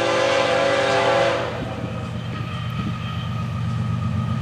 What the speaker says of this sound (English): this is what you've been waiting for, the hot train.